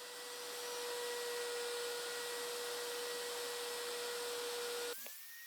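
A handheld router cuts wood veneer over particle board, a steady high motor whine with a faint grinding hiss that stops abruptly near the end as the tool spins down.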